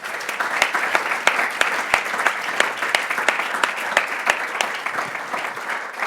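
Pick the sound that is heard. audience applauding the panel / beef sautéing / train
audience applauding the panel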